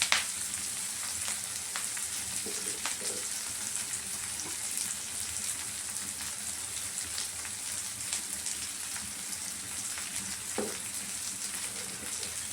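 Green chilies and chana dal fry in a pan, a soft, even, rain-like sizzle running throughout, with a few faint knocks of a stirring utensil.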